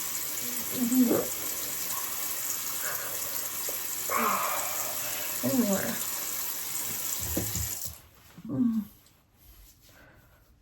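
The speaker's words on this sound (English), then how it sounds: "I have the water running." A tap runs with a steady hiss of flowing water, and a person speaks briefly over it before the water cuts off near the end.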